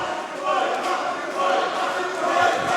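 A crowd cheers and roars continuously at a wrestling championship, a steady broad wash of many voices filling the space, swelling slightly in waves at moderate distance.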